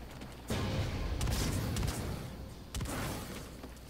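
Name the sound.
gunshot in the video game Call of Duty: Infinite Warfare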